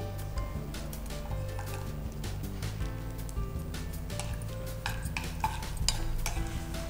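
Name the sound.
stirring and frying in ghee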